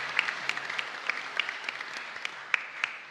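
A congregation at a Catholic Mass in a chapel gives scattered, moderately loud applause, with individual claps popping irregularly over a soft continuous patter.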